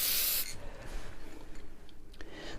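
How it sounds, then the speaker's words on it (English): A can of matte spray gives a short, sharp hiss as it lightly coats a beer glass. Quiet rubbing and handling noises follow. "So I'm just going to lightly spray."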